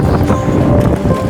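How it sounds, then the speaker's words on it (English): Outdoor wind gusting in Maine, a loud, close, rumbling buffet across the microphone that lasts the whole brief moment with no pauses. "That's Maine wind."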